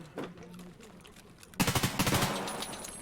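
Gunfire in the video game Escape from Tarkov, a sudden loud burst of rapid automatic shots that follows a quieter opening with brief talk.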